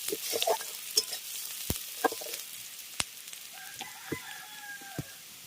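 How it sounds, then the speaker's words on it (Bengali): Onions fry softly in oil with a low, quiet sizzle and sharp clicks of stirring, while a rooster crows faintly in the distance. "আগে পেঁয়াজটাকে একটু ভেজে নেব"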